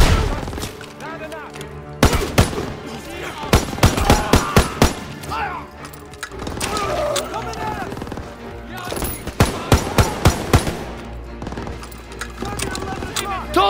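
Bursts of gunfire in the World War II shooter Call of Duty: WWII, sharp clustered shots in several volleys over a battle soundscape, with shouted voices in between.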